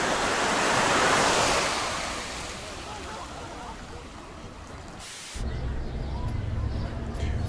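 Mediterranean sea waves wash steadily onto the beach at Alanya in Turkey, a continuous broad roar of surf that swells early, then eases into a constant hiss with no talking.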